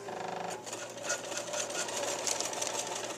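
A Bernina sewing machine runs a zigzag stitch along quilt binding with cord, giving a steady, fast mechanical whir and rapid needle chatter up close, continuous and without talk.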